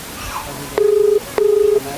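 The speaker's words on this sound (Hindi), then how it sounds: "घंटी जाने दीजिए, पूरी घंटी जाने दीजिए।" Outgoing telephone call ringing unanswered, two long electronic ringback tones about a second apart over faint background noise.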